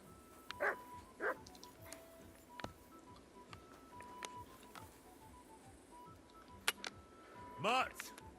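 A dog barks a few short, sharp times in the medieval video game Kingdom Come: Deliverance II, separate yelps scattered over quiet game ambience with brief voices and chimes.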